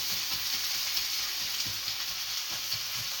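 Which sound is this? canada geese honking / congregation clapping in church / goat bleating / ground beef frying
ground beef frying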